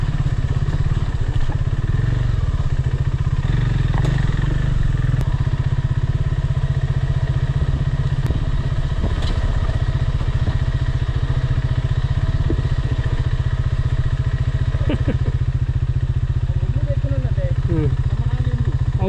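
A motorcycle engine runs steadily while riding a rough forest track, loud and close with clattering thumps over bumps throughout, and a person talks over the engine noise.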